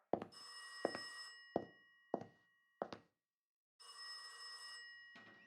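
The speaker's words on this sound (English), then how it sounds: "The phone's ringing in the lobby." An old-fashioned telephone bell rings in two long bursts, with several sharp knocks or thuds in between; no voices.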